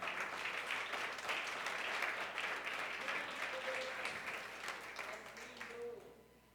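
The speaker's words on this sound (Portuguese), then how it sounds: "Pode aplaudir" A church congregation applauds steadily for several seconds, a dense, even wash of clapping that fades out at the end, with faint voices mixed in.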